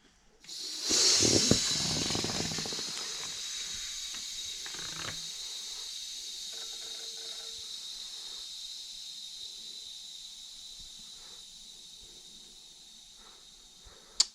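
A burst of compressed air hisses loudly into a tubeless bike tire with sealant on a Specialized 2Bliss rim-taped 29-inch wheel, then fades into a long, steady, softer hiss before a sharp pop at the end.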